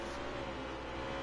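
A NASCAR Heat 3 race car roars past the start-finish line on the Mid-Ohio circuit, a steady, faint engine drone held briefly without any talk over it.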